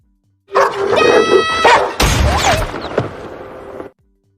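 A mother dog barks and snarls aggressively as she attacks in a war film scene, with loud close growling and yelps running continuously for about three seconds amid scuffling.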